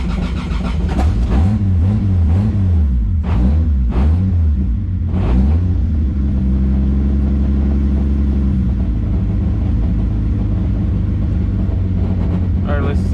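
Toyota Supra engine running and revving after a wiring fix, untuned, with loud rumbling swells and throttle blips over a steady low drone, and speech partly over it.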